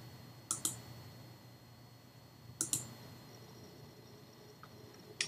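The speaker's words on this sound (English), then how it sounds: "So I'm going to click Tool Link." Computer mouse clicks while working in a Blackboard course control panel, three close pairs of sharp, quiet clicks spaced a couple of seconds apart over a faint, steady background hum.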